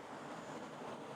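Forest stream water cascading over rocks in Tollymore Forest, a steady broadband rush that fills the whole short stretch, close and even with no voices over it.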